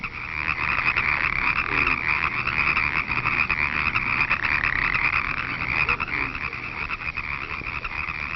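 Dense chorus of frogs croaking at a spring pond, a continuous overlapping trill filling the whole stretch at steady loudness with no voices.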